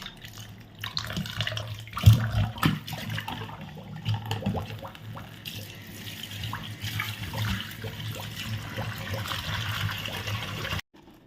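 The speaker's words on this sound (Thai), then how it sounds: "เปิด น้ำแล้วก็ เอาพริกนะคะ มาล้าง ด้วยเลย" Kitchen tap water runs into a sink while fresh chilies are rinsed under it, a steady close splash with brief clatter and knocks, continuing alone for about ten seconds before stopping abruptly.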